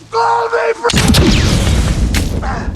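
A single loud gunshot booms after a moment of talk, followed by a rumbling echo and scattered noise.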